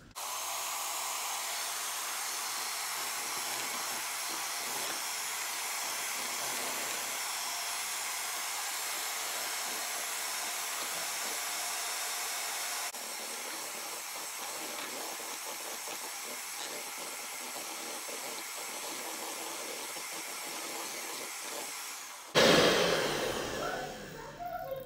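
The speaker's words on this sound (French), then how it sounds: "On va juste fouetter jusqu'à avoir un effet crémeux." Electric mixer whipping cream for homemade ice cream: a steady, loud motor whir with a hissing edge that runs on for over twenty seconds, shifts tone briefly midway and ends in a clattering burst, with no talk.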